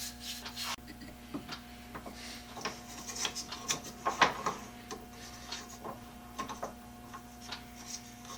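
A wooden handle from a two-man saw is sanded by hand in a quiet workshop, giving soft, irregular rubbing strokes with light ticks and scrapes. The sound is faint and close, with no voices.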